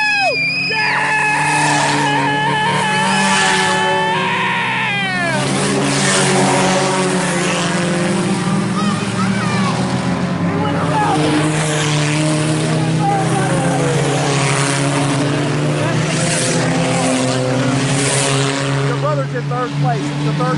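IMCA sport compact race cars race at Salina Speedway in a loud sustained roar of engines rising and falling as they pass, with spectators shouting and cheering excitedly close by throughout.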